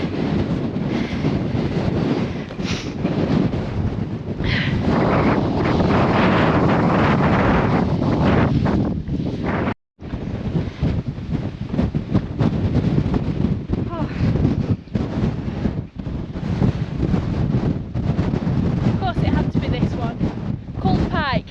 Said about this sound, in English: it's windy, I know that much.